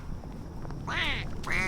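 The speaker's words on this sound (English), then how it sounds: "Quack, quack, quack," Two bursts of loud duck quacking from the video game We Happy Few, a harsh nasal call sounding twice in quick succession over a steady low background hum.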